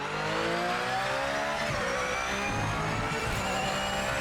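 A race car engine in the video game Project Motor Racing whines and revs continuously, pitch climbing and dropping through gear changes, loud and steady with no talk.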